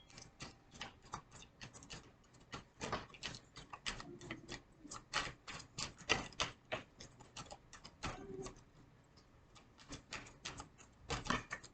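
Tarot and earth energy cards shuffled by hand, a rapid run of crisp riffling snaps and flicks with brief pauses, close and fairly quiet, no talking.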